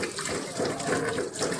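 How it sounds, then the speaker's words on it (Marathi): Silicone brush heads are rinsed under clean running tap water, a close, steady splashing stream with no pauses. "मी स्वच्छ पाण्याने धुवून घेतले"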